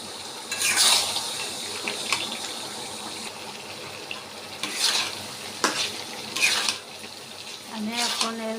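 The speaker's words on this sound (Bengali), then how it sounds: "এখন ভালোভাবে নাড়তে হবে।" A sweet, sour and spicy pickle stirred in a pan, with several scraping, sloshing strokes over a low simmering sizzle and a brief voice near the end.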